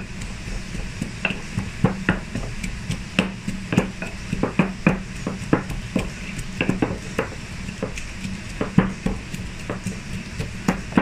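Papaya salad pounded with a mortar and pestle, a steady run of close knocking thuds with light clatter, irregular but continuous, with no talking.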